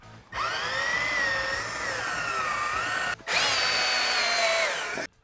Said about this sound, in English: now that we have our holes drilled